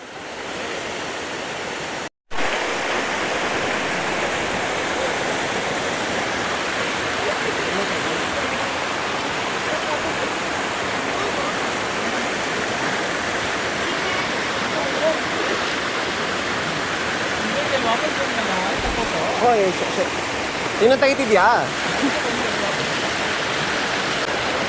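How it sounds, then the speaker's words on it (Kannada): Bangara Kusuma waterfall pours in a loud, steady roar of falling water that fills the whole stretch. A short cut breaks it early on, and a voice speaks briefly near the start. "ಮೇಲಿಂದ ಜಲಪಾತ ಬೀಳೋ ಶಬ್ದ ನೋಡಿ, ಬಸ್ ಅಂತ ಸೌಂಡ್ ಕೇಳಿಸ್ತಾ ಇರ್ಬೋದು."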